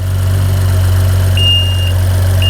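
Car engine idling steadily during a 3C engine cleaning system setup, a loud, even low hum close by, with a high electronic beep sounding briefly twice over it.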